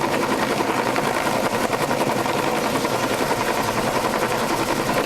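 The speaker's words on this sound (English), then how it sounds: "Helicopter is up there with the cable." A helicopter hovers overhead holding a cable during demolition of a temporary bridge on the Moloka'i Pali Trail, a loud steady rotor chop that continues throughout.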